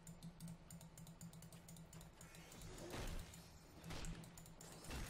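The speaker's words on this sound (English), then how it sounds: "It's loud because it's a mechanical keyboard and my microphone is fairly sensitive." Quiet, rapid clicking of keys on a mechanical keyboard, a fast irregular typing patter with some soft thumps, low and close.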